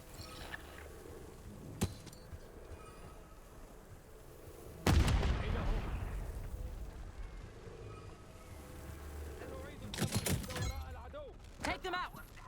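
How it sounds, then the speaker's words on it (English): A frag grenade blasts in the Call of Duty Black Ops 6 video game: a sudden loud boom followed by a long rumbling decay, with scattered gunshots before and after and voices talking around it. "Incoming frag!"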